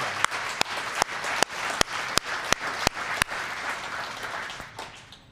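A crowd at a Pennsylvania outdoor recreation celebration with Governor Shapiro breaks into steady applause, punctuated by a regular series of sharp, loud, evenly spaced claps up close that stop partway while the general clapping fades away.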